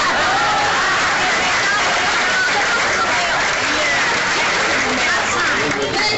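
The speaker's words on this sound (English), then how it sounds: "Give him a round of applause." Audience applause from a crowd, a loud, dense, unbroken roar of clapping that holds at the same level for several seconds.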